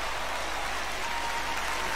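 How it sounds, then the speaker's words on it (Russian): Enthusiastic audience applause at a New Wave concert honoring Igor Krutoy and Dimash, a dense continuous roar of clapping filling the hall at steady loudness. "Еще раз ваши бурные аплодисменты."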